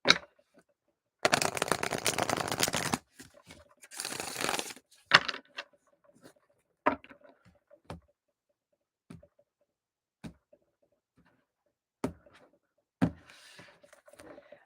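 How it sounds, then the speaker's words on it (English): Tarot cards being shuffled in bursts, two dense riffling runs near the start followed by scattered sharp taps and card flicks, close and clear with no talk. "I think one more shuffle."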